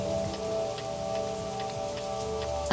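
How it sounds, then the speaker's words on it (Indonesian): Heavy rain falls steadily at night, a dense, constant hiss of drops hitting surfaces, close and unbroken, with a low tonal hum underneath. "Kenapa sampai larut malam gini belum berhenti ya hujannya?"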